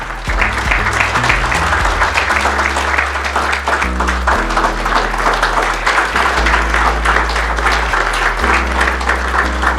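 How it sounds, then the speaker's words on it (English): An audience at the GA Eco Drive cover launch breaks into loud, sustained applause during a certificate unveiling, thick clapping running throughout over steady low background music. "do help me with another round of applause as Stefano and Director Sachit unveil the"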